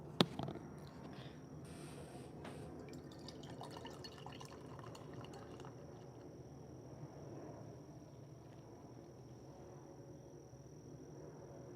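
Whiskey being poured into a glass, a steady liquid fill with a few drips, heard close and alone over a faint background hum, with no talking.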